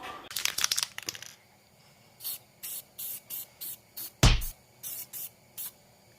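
Car chassis parts for a dirt track race car get spray painted: a crinkling burst first, then a row of short, even hisses from a rattle can up close, with no voices.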